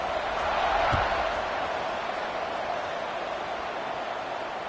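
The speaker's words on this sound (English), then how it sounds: "this crowd is buzzing after that last score" Football stadium crowd buzzing after a score, a steady broad roar of many voices filling the air evenly, with no single voice standing out.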